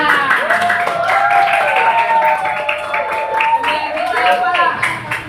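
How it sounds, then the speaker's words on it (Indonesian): A classroom of students applauds together after their teacher calls for it, busy clapping mixed with cheering voices and a sustained tone running through. "Oke, kasih tepuk tangan."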